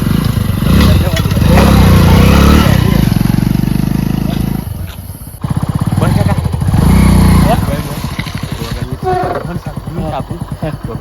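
A motorcycle engine runs and revs loudly nearby, rising and falling with bursts of clatter, while people talk over it.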